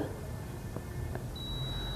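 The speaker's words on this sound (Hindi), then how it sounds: "तो यह जो है बीप साउंड आ रहा है" A multimeter beeps during a continuity check on a deep freezer thermostat, giving a steady high electronic tone that starts partway through over a faint background hum.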